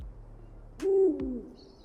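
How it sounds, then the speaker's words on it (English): Owl hooting at nightfall in the video game Call of Saregnar, a single clear hoot standing out over a low ambient wash, fairly close and moderately loud. "there is a day-night cycle as well, complete with owl sounds as it gets darker"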